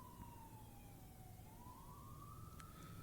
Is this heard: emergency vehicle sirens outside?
yes